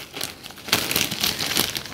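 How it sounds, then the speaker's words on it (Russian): A plastic packet of gloxinia seedlings is torn open by hand, giving a close crinkling, ripping rustle in several short bursts that grows louder midway, with no talk. "Вот так разрываю пакетик"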